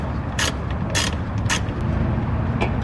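Screws being driven in while a valve controller is fitted to the exhaust of a BMW M4, heard as a steady close mechanical grinding with three or four sharp ratcheting clicks spaced about half a second apart.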